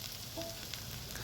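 Spice paste of ginger, garlic and turmeric frying in oil, a soft steady sizzle, faint and close with no voices.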